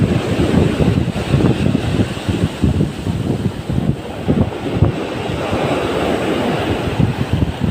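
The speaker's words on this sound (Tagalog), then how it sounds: "Grabe ang alon." Strong ocean waves surge and wash at a fishing spot, a loud continuous churning roar with heavy wind buffeting the microphone, no voices.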